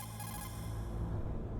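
A codec call rings in the Metal Gear Solid video game, a steady repeating electronic ring with layered tones that holds for the whole short stretch at moderate loudness, no voices over it.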